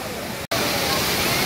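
Courtallam waterfall with people bathing under it gives a loud, dense, continuous roar that drops out for a split second and then resumes at full strength.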